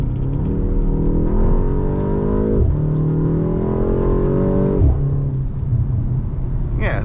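A 2025 BMW M235 Gran Coupe engine revs up in repeated rising sweeps, climbing in pitch twice before a shift-like drop, loud and close with steady road rumble underneath.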